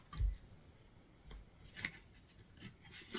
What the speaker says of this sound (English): as I'm shuffling out your cards